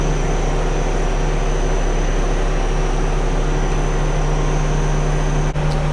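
Nakamura TMC-18 CNC turning center, in good condition with new spindle bearings, running with a loud, steady mechanical hum and a constant low tone that continues evenly with no pauses.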